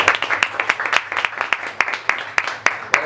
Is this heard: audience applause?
yes